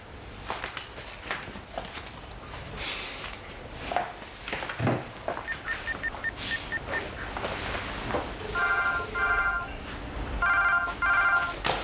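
A telephone rings indoors in a home, two bursts of repeated electronic trills near the end, following footsteps and household shuffling.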